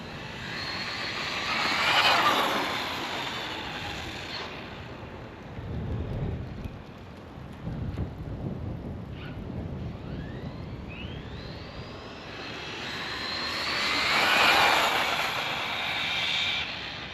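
A Rlaarlo Gladiator ROG-1 1/14-scale RC car on a speed run, its high electric whine rising as it rushes past, fading in the middle, then swelling again on a second loud pass, no talk.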